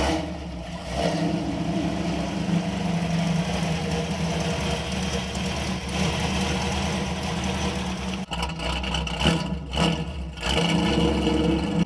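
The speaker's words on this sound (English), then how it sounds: "Jason's gonna fire the V8 up." A Ford Falcon V8 engine runs at a steady, loud idle close by, a continuous low rumble with a brief dip near the end, then slight unevenness in the last seconds.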